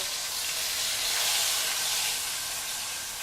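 Meat sears steadily in a hot pan, a continuous close hiss and sizzle with no voices over it.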